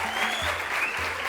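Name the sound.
audience applause for the director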